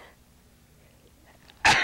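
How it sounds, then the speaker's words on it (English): A single sharp, explosive sneeze bursts out at the very end after near silence, close and loud. "I get sneezing."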